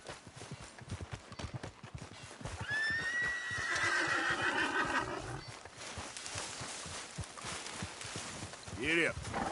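Horse in the Red Dead Redemption 2 video game whinnies loudly and at length while being ridden, over the rhythmic clip-clop of hooves and game ambience.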